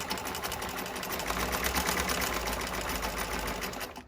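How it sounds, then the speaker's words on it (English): A sewing machine hums steadily through a back stitch, one continuous close mechanical run of rapid needle strokes with no talk. "we're going to start with the back stitch"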